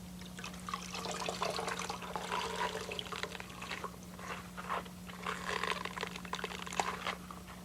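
Water splashes and trickles steadily as painted warps are rinsed under running water, a soft continuous wash over a low electrical hum.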